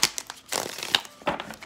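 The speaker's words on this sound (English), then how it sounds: "I'm going to shuffle one more time" A deck of tarot cards being shuffled by hand during a reading, with crisp riffling and papery bursts in a few short, uneven clusters, close and fairly quiet.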